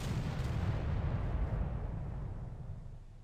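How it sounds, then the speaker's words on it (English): A warship fires full gun salvos in the naval video game Victory at Sea: Atlantic, a heavy, booming rumble of cannon fire that rolls on and slowly fades, with no talking. "Alright, we're going to fire full salvos here."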